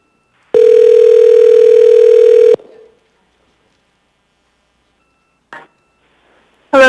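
Telephone line opening for a phone-in caller at a municipal assembly meeting: a loud, steady dial tone holds for about two seconds, then cuts off, followed by a brief click and a short electronic burst at the end.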